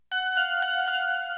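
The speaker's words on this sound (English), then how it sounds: "So I just found this little kind of like electric harpsy pluck out of the Jupiter 8." Electric harpsichord-like pluck from a Jupiter 8 synth plays a quick run of about five bright, crisp notes in even rhythm, heard alone.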